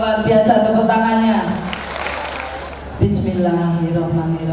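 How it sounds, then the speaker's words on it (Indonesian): An audience at a Bunda PAUD early-childhood education event in Kota Malang gives a short burst of clapping. It sits between stretches of an amplified announcer's voice, with the applause rising and fading in the middle. "Luar biasa tepuk tangannya"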